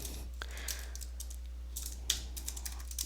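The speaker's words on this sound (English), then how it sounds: "as I was typing it in, the live preview changed" Light, rapid keystrokes on a computer keyboard, a quick irregular run of soft clicks over a steady low electrical hum, close and quiet with no voices.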